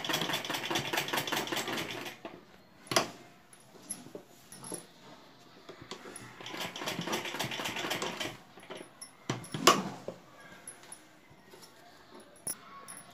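A sewing machine runs in two bursts of quick rattling stitching along a collar neck edge, broken by pauses filled with sharp clicks and handling noises, close by.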